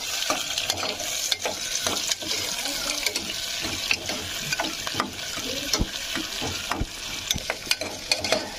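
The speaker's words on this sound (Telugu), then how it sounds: "ముందుగా పెనం పెట్టుకొని అందులో సరిపడినంత ఆయిల్ వేసి ఆనియన్ అండ్ పచ్చిమిర్చి వేసి ఫ్రై చేసుకోవాలి" Onion and green chillies fry in oil in a pan for tomato rice, a continuous bright sizzle broken by frequent spatula scrapes and taps, close up and alone.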